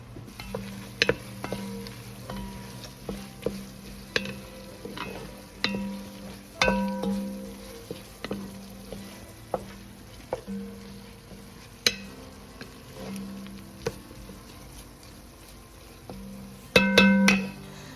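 Onions with a pinch of celery seed sizzle softly in a pot, while a spoon scrapes and clinks against the sides in intermittent stirring strokes, ending in a louder clatter.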